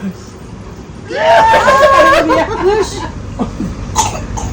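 A burst of rough coughing and throaty sputtering fills the middle, followed by a few softer hacks and breaths.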